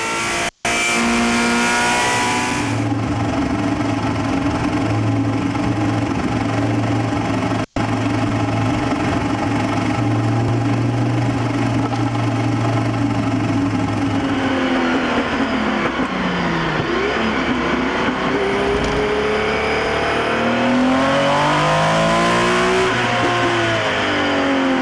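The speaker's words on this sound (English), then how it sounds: "That is Richard Atwood driving a 917." A Porsche 917 race car at the Le Mans Classic is heard from onboard. Its engine roars loudly and continuously, holds high revs, then drops through downshifts and climbs again as it accelerates out of a corner.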